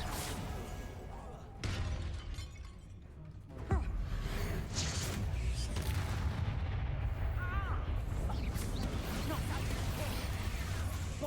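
The Bombarda blast spell in Hogwarts Legacy lands as a sharp booming burst, followed by a dense, rumbling wash of game-combat noise and crackling debris that stays loud to the end.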